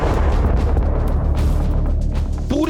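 An explosion from a Russian navy hypersonic missile test roars as a loud, sustained, rumbling blast that fills the whole short stretch without a break.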